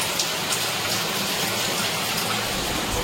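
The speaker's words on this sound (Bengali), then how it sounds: "দেখো কেমন বৃষ্টি পড়ছে, একভাবে হয়েই যাচ্ছে" Steady rain falls continuously during a monsoon power cut, a dense, even hiss of drops on surfaces with no letup and no voices, moderately loud throughout.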